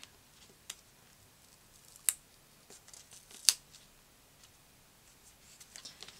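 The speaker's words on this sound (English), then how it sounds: "I'll trim off the extra from the journaling card." Scissors trim the excess from a journaling card in a few sharp, close snips, separated by quiet gaps and faint handling rustles.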